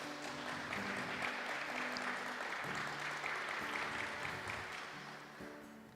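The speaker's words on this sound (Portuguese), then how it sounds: "Você pode aplaudir ao Senhor pela palavra dele." A church congregation at a family worship service claps together in a sustained round of applause, steady and fairly distant, while soft musical tones linger underneath.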